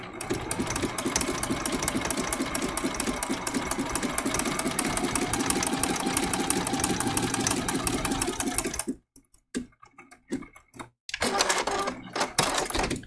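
A sewing machine stitches down a giraffe appliqué quilt piece, running steadily and loudly for about nine seconds, then stopping and starting in short bursts near the end.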